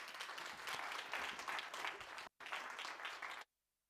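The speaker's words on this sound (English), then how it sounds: "Let us put a round of applause for the man of the moment" Audience applause at an International Women's Day event, dense and sustained with one brief dropout, then cutting off abruptly into silence.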